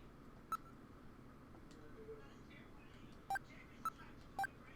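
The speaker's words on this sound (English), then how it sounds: "Alright, let's use the video phone." Video phone dialing tones in the Snatcher video game, a series of short electronic DTMF beeps, one single tone followed by a cluster of three, each crisp and distinct over a quiet background hum.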